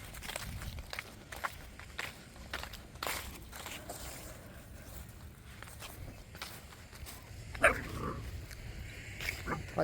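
A Central Asian shepherd puppy moves about near the microphone, with soft footsteps and a brief bark or whimper, while faint background noise runs throughout.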